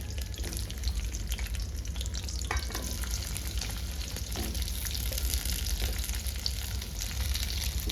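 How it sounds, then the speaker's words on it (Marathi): Chopped onion frying in three spoons of hot oil, a steady close sizzle with occasional stirring scrapes and light crackles throughout, no voices. "आता इथे ना मी तीन चमचे तेल गरम करून घेतलेले त्याच्यामध्ये सगळ्यात अगोदर कांदा टाकून घ्यायचा आहे"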